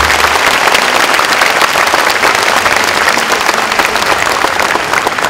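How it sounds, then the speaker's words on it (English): Loud, sustained applause from a lecture audience after a business leader's talk, dense clapping close up that stays strong and even for the whole stretch. "Another round of applause."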